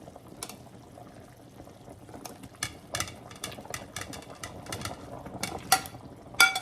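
Green papaya pieces drop into a simmering chicken ginger soup, with a bubbling, sizzling bed of liquid and a run of irregular plops and clatters that grows busier and louder toward the end.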